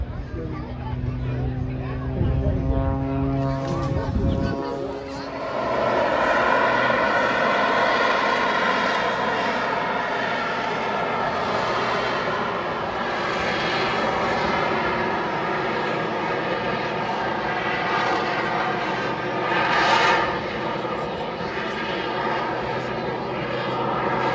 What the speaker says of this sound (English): The aircraft will be slowed to a very high alpha altitude, and then the aircraft will be virtually stationary in the sky.